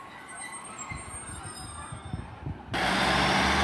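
A Tarka line diesel multiple unit pulls away from Bristol Parkway station, its engine rumbling and wheels thumping on the rails. The sound then jumps to a louder, steady roar as the train passes close by.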